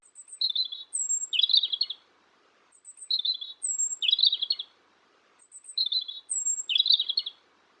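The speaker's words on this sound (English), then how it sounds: "Here's the robin." Robin song repeats three times, bright high chirping phrases in short bursts with brief pauses between, clear and fairly close.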